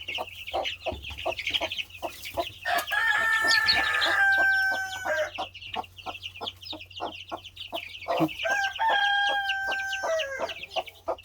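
Rapid, high-pitched peeping from several newly hatched Cheonggye chicks, steady and close, with occasional louder clucks from an adult hen mixed in.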